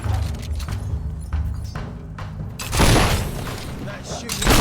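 Gunfire in the video game Fable 3, a rumble of booming shots and thuds building to a louder burst near the end, heard beneath ongoing talk and game music.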